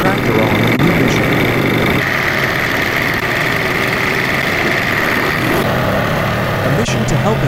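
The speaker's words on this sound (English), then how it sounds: "She drives her tractor on a new mission." A repaired Kumiai tractor engine chugs steadily while the tractor drives along, a loud, constant low mechanical drone with faint rattles, and a voice talks over it.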